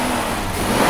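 A Rolls-Royce car engine revs steadily and close by during a coin balance test, with a sustained mid-pitched drone that swells slightly toward the end.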